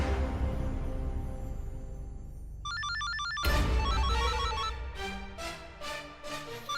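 A mobile phone rings in a Hindi TV drama scene, a repeating electronic ringtone melody that enters partway through over background music and keeps cycling.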